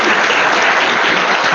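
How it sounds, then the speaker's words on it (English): An audience at a talk on big data in sports applauds, a dense, loud, continuous roar of clapping heard up close with no gaps. "let's give Alex another round of applause"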